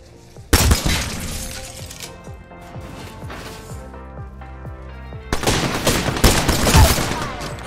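The L-Star energy light machine gun firing in the battle royale shooter Apex Legends: a loud sustained burst at the start, rhythmic thumping shots through the middle, then another heavy, dense volley near the end.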